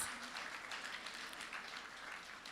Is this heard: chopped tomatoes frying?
no